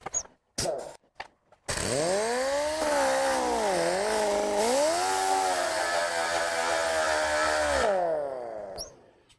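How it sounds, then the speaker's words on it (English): A disc sander with 240 grit sandpaper smooths the surface of a model aircraft fuselage, whining loudly and steadily with shifting pitch for several seconds after a few short bumps, then cutting off. "I finished smoothing the whole surface using a disc sander"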